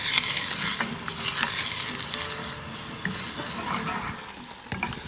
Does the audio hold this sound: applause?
no